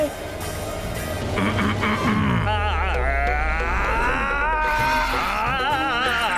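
In a Hindi cartoon song, a voice imitates a goat's bleat with a loud, wavering sung tone over a low musical backing that continues steadily throughout.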